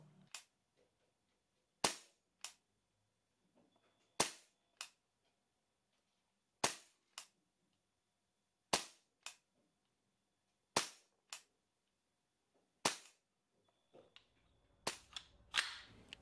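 A Tokyo Marui MTR16 gas blowback airsoft rifle fires about a dozen sharp, loud single shots at uneven intervals, each crisp crack standing alone against near silence, with a couple of quick pairs toward the end.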